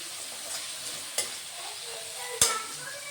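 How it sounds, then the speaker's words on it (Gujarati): Tomatoes are stirred into garlic and ginger in a hot pan for traditional pasta: a steady close sizzle broken by two sharp spatula knocks against the pan, with no talking. "લસણમાં નાખ્યું આદુ, હવે નાખીશું આપણે ટામેટાને હલાવી લેશું"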